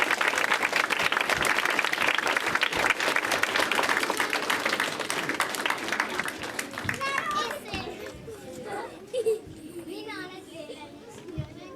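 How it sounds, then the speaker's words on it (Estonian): An audience applauds first-grade pupils at a school first-of-September opening ceremony. The clapping is dense and steady for about seven seconds, then fades into children's chatter and voices. "Lehvitame ja teeme neile aplausi."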